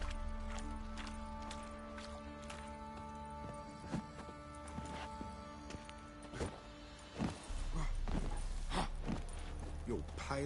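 A horse's hooves clip-clop at a slow, uneven pace in The Witcher 3 video game, faint and irregular over a steady low hum of game ambience.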